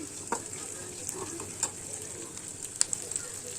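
Onions frying in a pan for masala puri, a faint steady sizzle with a few soft clicks and stirring touches, quiet and close.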